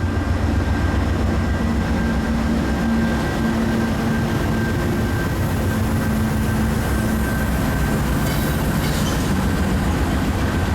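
A Union Pacific freight train on a detour rolls past with a steady loud rumble, carrying through unbroken with faint wheel clatter and a sustained tonal hum.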